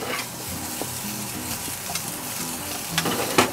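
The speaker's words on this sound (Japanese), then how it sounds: "じわじわじわっていう音がね少し鳴り止んだところでバター入れましょう" Shrimp sizzle in a frying pan for garlic butter shrimp, a dense close crackling fry with intermittent stirring clicks and a louder scrape near the end.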